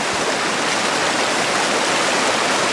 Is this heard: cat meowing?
no